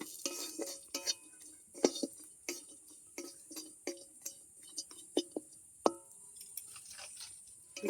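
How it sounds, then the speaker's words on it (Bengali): Cashews and raisins lightly fried in a kadai, heard as a faint quiet sizzle under repeated sharp spoon clinks and scrapes against the pan at a rough steady pace. "কাজু কিশমিশটাকেও হালকা করে ভেজে নেব"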